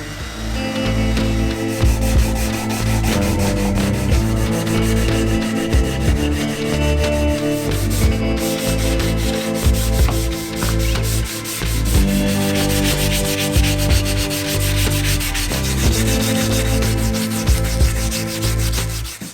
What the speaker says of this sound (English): sanding, lots and lots of sanding.